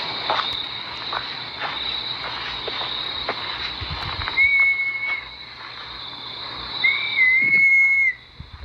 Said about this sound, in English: I can hear someone whistling.